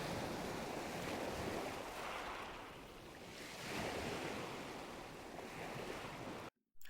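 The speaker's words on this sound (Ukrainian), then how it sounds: "Звуки моря." Sea waves breaking and washing on a shore, a steady broad roar with slow swells in loudness and wind buffeting, continuous and fairly close, ending abruptly.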